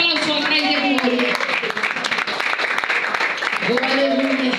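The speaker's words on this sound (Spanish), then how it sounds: "Dale un fuerte aplauso al Rey de Gloria." A church congregation claps loudly and steadily throughout, with dense sustained applause and voices mixed in under the clapping.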